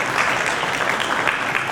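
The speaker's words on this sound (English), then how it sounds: "let's hear a round of applause for Mr. Manish Kumar Srivastava" Audience applause at a CEO summit of an automation expo, a steady mid-sized burst of clapping for about two seconds, close and fairly loud with no voices over it.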